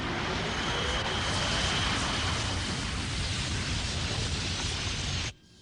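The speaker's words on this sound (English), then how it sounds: "An explosion." A long, rumbling roar of a distant underwater explosion in a submarine film, a broad wash of noise that holds steady for several seconds before cutting off abruptly.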